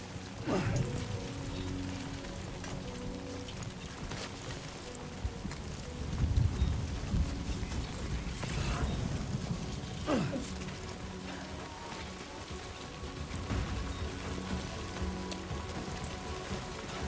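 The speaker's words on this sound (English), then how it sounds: "It's raining." Steady rain pours in the video game Death Stranding 2, a dense even hiss of drops on surfaces that holds for the whole stretch, with a few louder splashes and low rumbling footsteps or movement underneath.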